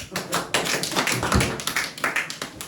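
Audience at a Korean church sermon breaking into applause, a dense run of quick hand claps that stays fairly loud and even for a few seconds before thinning out.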